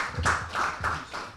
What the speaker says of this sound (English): Keep clapping a big.